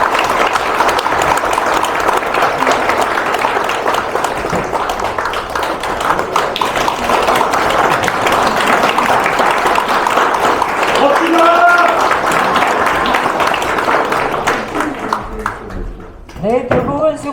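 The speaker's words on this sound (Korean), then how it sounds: "기를 전달할 때 여러분의 힘찬 박수 부탁드립니다." An audience at a Korean inauguration ceremony claps steadily and fairly loudly during a flag handover, with the applause thinning out toward the end.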